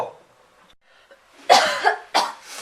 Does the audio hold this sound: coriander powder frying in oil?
no